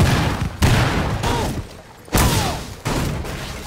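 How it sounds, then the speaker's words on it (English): A cluster charge detonates in the tactical shooter Rainbow Six Siege, giving a series of close, loud blasts in quick succession with short gaps between them. "Cluster charge going live. Cluster charge, active detonating cluster charge."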